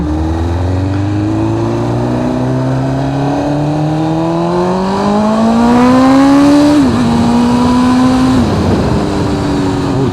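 A BMW S1000RR Gen 4 motorcycle accelerates hard on a quiet road, its engine note climbing steadily in pitch through the gears, loud and close, with a brief shift dip near the end and no talk.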